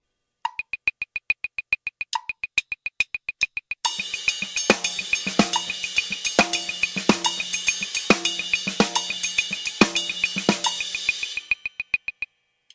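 Drum kit playing a half-time shuffle groove, with sharp, evenly spaced hi-hat or cymbal hits alone at first, then a fuller steady shuffle with regular heavier beats before thinning back to sparse hits.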